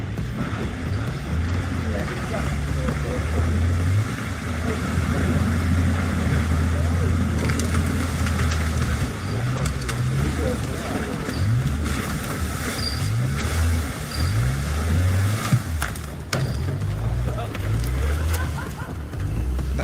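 An amphibious off-road vehicle's engine runs at a steady, throaty idle under continuous talk, with a low rumbling drone and occasional rises as it revs.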